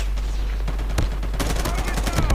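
Rapid gunfire bursts from the Call of Duty Mobile video game, a cluster of sharp shots near the start and a denser volley in the second half over a steady low hum, with faint talk in the background.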